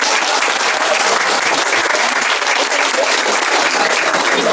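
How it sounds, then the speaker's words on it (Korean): A church congregation claps in welcome for first-time visitors at a year-end gathering: a loud, dense, unbroken roar of many hands that stays steady throughout. "이분들을 위해서 저희가 환영의 박수를 한번"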